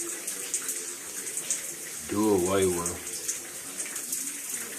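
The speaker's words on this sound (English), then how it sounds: "let me try to get past this shooting water" Water sprays from a leaking old galvanized pipe in a house on Detroit's Eastside. It makes a constant hissing gush under steady talk, and a brief louder voice cuts in midway.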